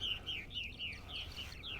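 Birds chirping and calling outdoors on an evening in eastern Long Island, New York: a run of quick, bright repeated tweets, fairly faint and slightly distant, over a quiet background.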